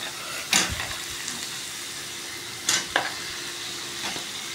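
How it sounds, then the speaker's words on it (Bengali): Diced potatoes and onions fry in a pan for an omelette curry, giving a steady low sizzle with a few sharp stirring scrapes and clatters near the start and middle; no one speaks. "এবার আলুটা ভালো করে ভাজবো, আলু পেঁয়াজ দিয়ে ভালো করে ভাজবো।"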